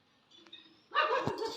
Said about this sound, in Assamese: এই ওপৰৰ পৰা এটাই ভুকি আছে সেইটো